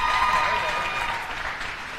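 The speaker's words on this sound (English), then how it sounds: "Make some noise and don't stop clapping." Applause from an audience at a closing ceremony fills the space as a dense, even patter of clapping, with faint voices mixed in underneath.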